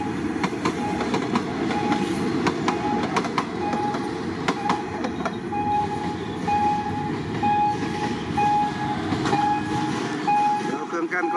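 Thai SRT QSY 5229 passenger train running as an ordinary service into Bangkok, with a steady, loud rumble of rolling railcars and rhythmic clickety-clack of wheels throughout, some faint voices in the background.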